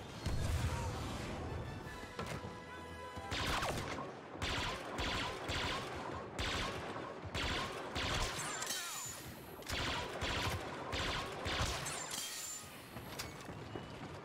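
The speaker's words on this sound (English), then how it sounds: "The gun sound has not been changed." Rapid bursts of blaster gunfire in the Star Wars Battlefront 2 video game, loud repeated volleys in quick rhythmic clusters with brief gaps, crisp and close.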